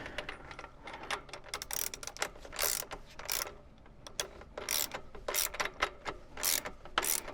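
A ratchet wrench tightens the rear axle nut on a Surron Ultra Bee electric dirt bike, giving close, repeated clicking bursts in an uneven rhythm as the handle swings back and forth, with no talking.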